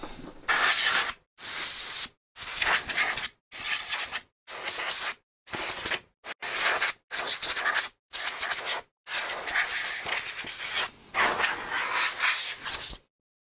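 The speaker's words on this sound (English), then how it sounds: "Seem to get the old spray air duster on it because it is minging." Repeated hissing bursts from a spray air duster blasting dust off a grimy Garrard 2025TC record deck, about a dozen short and long blasts separated by brief silences, close and loud.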